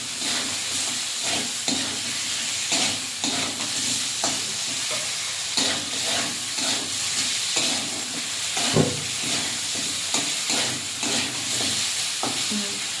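Potato and fish curry sautéing in hot oil with salt, a steady sizzle under repeated scraping stirs of a spoon against the pan, close and continuous with no talk.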